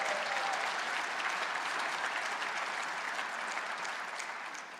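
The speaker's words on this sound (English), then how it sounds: "please give them a great round of applause for all the leadership that they provided." Steady applause from an audience at an annual celebration, a dense wash of clapping that holds for several seconds and slowly eases toward the end.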